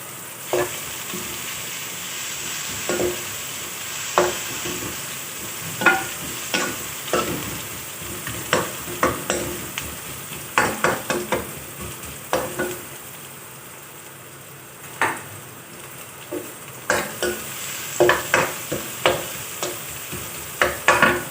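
Garlic sizzles in hot oil in a pan while a spoon stirs it, with scattered sharp scraping clicks over a steady frying hiss, close up and without speech.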